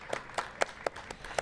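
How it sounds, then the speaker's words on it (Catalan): An audience on a chilly street corner applauds to welcome guest Jordi Cardona: a handful of sparse, sharp hand claps, fairly quiet and irregular, with no talk over them. "Ara rebem amb un aplaudiment també el Jordi Cardona"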